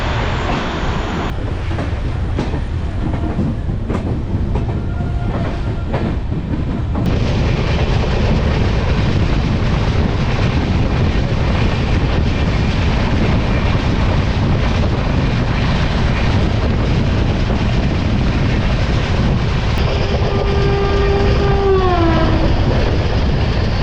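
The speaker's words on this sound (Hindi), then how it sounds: "5 मिनट का हॉल्ट लेने के बाद अपन लोग निकल गए हैं त्रिवेंद्रम सेंट्रल से।" Kanyakumari–Pune Express passenger train running steadily after departing Trivandrum Central, a continuous loud rumble of wheels and carriage noise with a rising tonal whine near the end, no talk.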